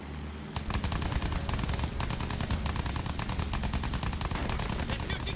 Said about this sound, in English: They're shooting back! They're shooting back!